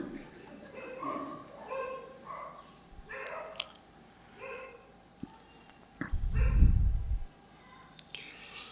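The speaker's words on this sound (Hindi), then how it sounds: "जैसे अभी ये भौंक रहा है, इसे कोई पसंद नहीं आया, इसने भौंक दिया।" A dog barks at an outdoor Vedanta festival gathering in Rishikesh, with one louder, heavier burst standing out, while someone talks nearby.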